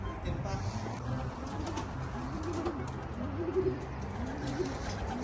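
Racing pigeons cooing in soft repeated throaty rolls against a low steady background hum, with faint wing and movement noise and no clear talk.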